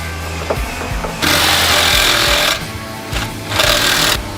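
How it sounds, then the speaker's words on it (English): A power tool cuts at bolts welded behind a plate on a Can-Am X3 side-by-side, giving loud, rough grinding bursts that start and stop in two long runs, with lower mechanical rattling between them. "Are you trying to cut those bolts off?"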